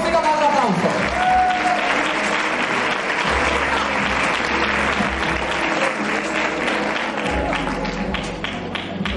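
Audience at an award ceremony breaking into loud, sustained applause, dense clapping from a large crowd that fills the room, with voices and music faintly underneath.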